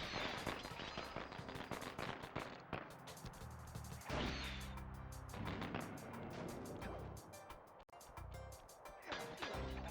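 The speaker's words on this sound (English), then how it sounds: "Look, fireworks." Fireworks in the video game Sly Cooper and the Thievius Raccoonus: a dense, continuous barrage of sharp cracks and pops over a low booming bed, loud and unbroken for ten seconds.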